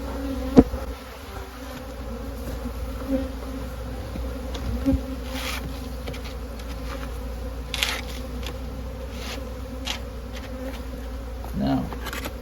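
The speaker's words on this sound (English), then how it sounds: "these bees could do with a bit of smoke" Honeybees buzz steadily from an open spring hive, a dense, continuous drone with occasional soft knocks and handling noises as the frames are worked.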